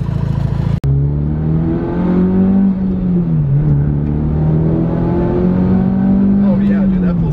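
A Mitsubishi Evo 9 engine revs and accelerates hard, with a loud sustained drone that rises in pitch, dips briefly, then climbs again, heard from inside the car.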